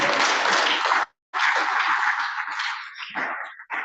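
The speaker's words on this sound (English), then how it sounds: "More applause for our traditional rulers." Applause from a conference audience honouring traditional rulers, a dense roar of clapping that runs for about a second, breaks off briefly, then resumes and gradually thins out.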